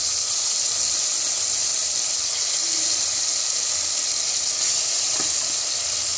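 Meat sizzles steadily in a pan as it is sautéed, a continuous bright hiss with faint crackles and no talking over it.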